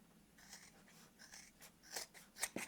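Several scissor snips cutting through thick, bulky quilted fabric of a crazy quilt pouch, close and fairly quiet, irregular crunchy cuts growing sharper toward the end.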